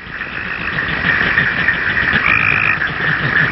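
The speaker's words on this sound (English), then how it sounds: "cricket frog is small and sometimes hard to see, but his call is easy to hear." A cricket frog calls steadily, a continuous close rattling trill with no pauses, heard alone without voices.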